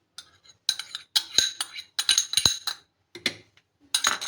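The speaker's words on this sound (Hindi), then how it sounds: "एक करके अंडा तोड़ें ताकि आपको पता लग जाए कि अंडे बिल्कुल ठीक है" Eggs are cracked one by one for an egg and semolina halva, a series of short sharp taps and clinks against a bowl rim, spaced irregularly and close, with no talk.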